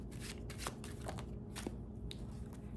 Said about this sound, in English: I've shuffled these cards enough